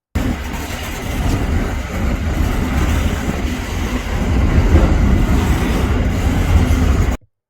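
Freight train rumbling past on the Adelaide to Melbourne rail corridor, a loud, close, continuous roar with rolling wheel noise, building slightly before cutting off abruptly.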